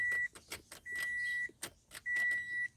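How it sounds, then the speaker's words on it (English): A car fails to start, giving a series of short clicking, whirring bursts while a dashboard warning chime sounds in long tones between them, close and inside the cabin. "My car won't start."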